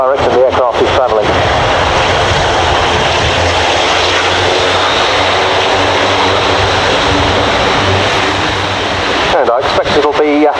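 Airbus A400M Atlas military transport aircraft taxiing at RIAT 2017, a loud, steady propeller-engine drone and roar that holds close and constant throughout, with a voice speaking over it near the start.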